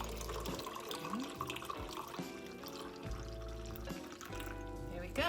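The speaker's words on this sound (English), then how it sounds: "let's pour it into the cup and see what it looks like" Kombucha poured from a bottle into a cup, a steady close liquid stream with gurgling pulses and changing pitch as the cup fills, over faint background sound.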